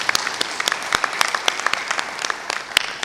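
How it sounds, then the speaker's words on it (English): A university graduation crowd in Rwanda applauds a cultural troupe, many hands clapping with sharp, distinct individual claps popping out over a busy, close patter of ongoing applause. "rise and give them a rousing round of applause for an excellent job"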